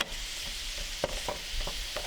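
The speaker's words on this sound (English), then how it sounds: "we're just gonna continue to grind as it cooks up to make sure we don't get real big clumps" Ground beef sizzles steadily in a hot pan while a utensil chops and stirs it, producing a constant frying hiss broken by occasional scraping knocks, close and without talk.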